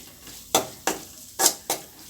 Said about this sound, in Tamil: இப்போ இதை நல்லா நம்ம வதக்கிக்கலாம் ஒரு ரெண்டு நிமிஷம்